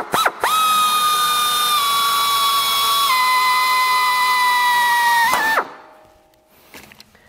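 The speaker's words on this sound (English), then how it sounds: "and drill the first hole" A power drill with a number 40 bit boring a clearance hole for a 3/32 rivet: a loud, steady high whine runs for about five seconds, shifting pitch slightly midway, then spins down and stops.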